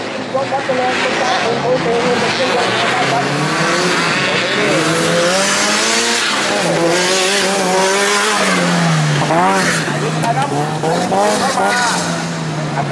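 Off-road race car once driven by Thai racer Somyot, engine revving and wailing up and down with tire squeal during a 2012 off-road open event, loud throughout under an announcer's talk.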